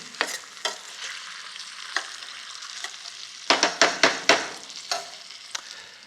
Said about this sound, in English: give the potatoes a quick stir while they're busy cooking